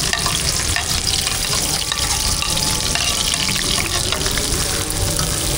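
Onions sizzling in hot oil in a restaurant kitchen pan, a loud, dense, continuous crackle and hiss filling the whole stretch with no talk.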